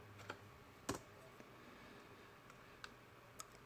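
Scattered keystrokes on a computer keyboard during network router configuration, sparse and faint: a few isolated clicks and taps with long pauses between them, over a steady low background hiss.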